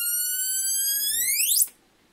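A 555 timer oscillator circuit, adjusted with a variable resistor, puts out a steady, strong electronic tone. The pitch holds, then sweeps sharply upward until the sound cuts off, leaving near silence.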